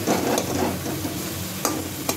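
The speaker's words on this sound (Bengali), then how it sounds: "ভালো করে কষাতে হবে।" Pointed gourd with yogurt sautéed in a pan, a steady close sizzle with the scrape of a stirring spoon and a couple of sharper clinks, fairly loud and continuous, no talking.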